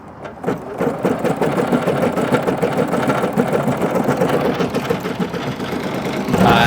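An embroidery machine stitches a design in a Honda Ridgeline RTL-E running in accessory mode at a park, a steady rapid mechanical chatter that holds throughout at close range.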